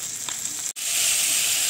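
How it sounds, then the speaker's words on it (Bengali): Small carp (pona fish) fry in oil in a pan over a clay stove, giving a steady, close, loud sizzle with a brief drop in the middle before the hiss resumes. "তো চলো আমার পুরো মাছটা ভাজা হয়ে যাক।"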